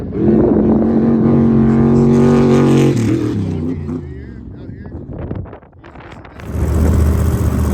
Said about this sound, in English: And here comes some of our top buggies.